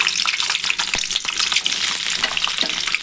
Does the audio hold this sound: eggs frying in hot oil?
yes